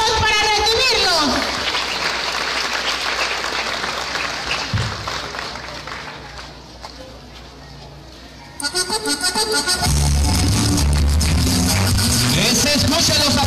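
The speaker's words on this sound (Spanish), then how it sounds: "Se escuchan los aplausos" Applause from an audience welcoming fifth- and third-grade pupils at a primary school celebration, loud and sustained, mixed with crowd noise and music-like low tones, building again strongly in the second half.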